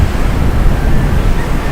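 Pacific Ocean surf breaking on the shore at Maui, a loud close rush of waves mixed with gusty wind buffeting the microphone, continuous throughout with no talking.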